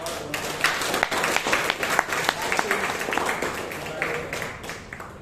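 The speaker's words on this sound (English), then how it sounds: "Can you have a round of applause" A round of applause from the audience at a Toastmasters meeting in Bangalore: scattered clapping that fills the room for several seconds, with a voice speaking over it in places.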